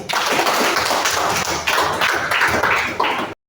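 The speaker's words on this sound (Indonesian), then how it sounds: "kita berikan tepuk tangan untuk kelompok 4" Schoolchildren in a classroom applauding a group's presentation, dense quick hand claps with some thumping, loud and close, carrying on steadily until they stop abruptly.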